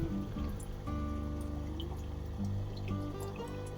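Water trickles and splashes continuously from a small pump in a homemade aquarium filter, with a low steady motor hum beneath.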